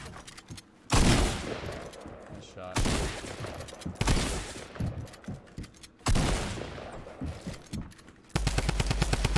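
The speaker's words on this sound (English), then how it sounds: "I got the drum gun, dude." Drum gun bursts in a Fortnite creative 1v1 fight, several loud rapid-fire volleys with short gaps, ending in a fast even rattle, with a voice talking over parts of the action.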